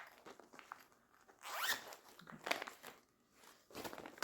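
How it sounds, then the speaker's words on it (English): A stuck zipper on a cross-stitch finishing piece is tugged open in a few short rasping pulls, one sharper burst in the middle, close and fairly quiet with light rustling around it. "Zipper incoming."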